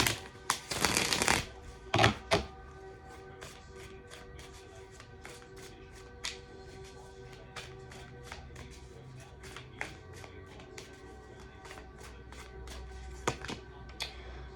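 A deck of Seed and Sickle oracle cards is shuffled in a loud, dense riffle burst near the start. Scattered soft card taps and flicks follow over a quiet room.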